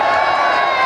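A large crowd at a community mass wedding of 51 brides in Siddhpur, Gujarat, sends up a loud, dense wall of cheering and shouting that stays steady and close through the brief moment.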